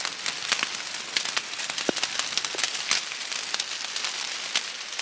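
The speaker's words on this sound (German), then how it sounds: "Es soll aufhören zu regnen." Heavy rain patters on leaves and ground in the woods during a thunderstorm, a dense crackling hiss with scattered louder drops, steady throughout and close by.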